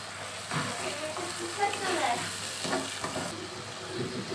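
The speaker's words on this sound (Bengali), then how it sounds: "ছোলাগুলো আমি এখন ভেজে নিব" Boiled chickpeas sizzling steadily as they fry in a pan, a close, constant crackling hiss with occasional scraping stirs, no talk.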